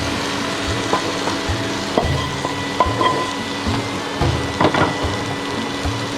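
Fried rice being added to a tomato masala and stirred in a pan, giving repeated scraping and soft clattering strokes with a faint sizzle underneath, close and fairly loud with no talking.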